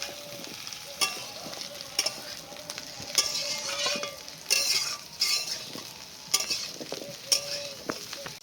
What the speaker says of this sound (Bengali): আলু দিয়ে আরও খানিকক্ষণ ভেজে নেব।